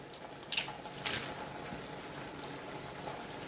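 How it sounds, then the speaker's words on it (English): Canned beans are drained and rinsed: faint, steady running water with a couple of brief splashy squelches near the start. "drain these and rinse them"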